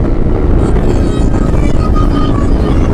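Vehicle engines roar together at a crowded Hindustan highway dhaba during a 15 August group ride, a loud, dense, unbroken wash of engine noise with some wind buffeting and no clear speech.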